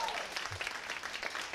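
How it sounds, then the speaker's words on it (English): Audience applause at a stand-up comedy show, a steady wash of clapping from the crowd that fills the whole moment at an even level without pause. "Give that woman a round of applause,"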